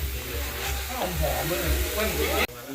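Field rat meat stir-fried with chili and kaffir lime leaves hisses and sizzles steadily in a hot pan while someone talks over it.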